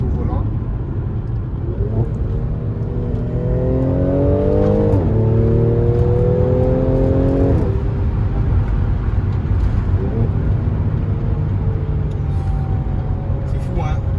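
A Mercedes C43 AMG accelerating hard in Sport Plus with manual paddle shifting: the engine note climbs through the revs, drops sharply at quick gear changes, then climbs again. A loud, close cabin perspective, with people talking over it.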